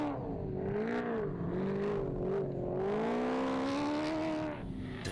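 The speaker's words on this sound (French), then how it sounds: "on retrouve le nouveau leader dans son Ford Ranger en pleine évolution" A Ford Ranger rally truck drives during the Morocco Desert Challenge desert rally, its engine holding a loud, steady, rising and falling drone that swells as it accelerates, with no one speaking.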